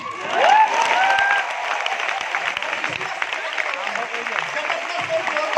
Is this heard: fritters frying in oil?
no